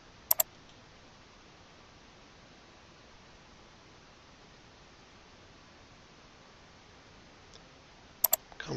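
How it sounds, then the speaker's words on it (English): Computer mouse clicks while working in Photoshop Elements: a quick pair of sharp clicks at the start and another pair near the end, separated by long quiet room hiss. "Go up and click on it again."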